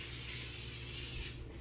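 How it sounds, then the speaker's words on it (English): Regular cooking oil spray hisses in a steady aerosol burst onto an electric griddle heated to about 325 degrees for pancakes, then cuts off. "I have just a regular oil spray,"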